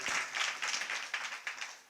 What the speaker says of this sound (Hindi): तालियां मात्र बजाई हैं